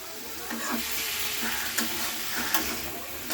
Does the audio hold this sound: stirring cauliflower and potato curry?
yes